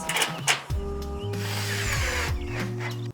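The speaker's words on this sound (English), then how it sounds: "Putting the sheet up against the wall, pulling it up, lining it up, and then screwing it into place." Cordless power drill driving screws to fix a sheet to a garage wall, with short revving bursts, a long steady whir and several trigger stops and restarts, close and clear.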